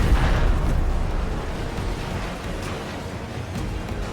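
Torpedoes launching and exploding in a space combat video game: a loud, close rumbling boom that decays into a long roaring wash of noise, with no talking.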